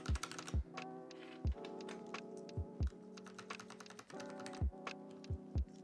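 Typing on a Sirius 60 prototype mechanical keyboard fitted with silent switches gives muted, evenly spaced keystrokes with a few deeper thunks. They sound close and clear over a steady electrical hum, with no voices.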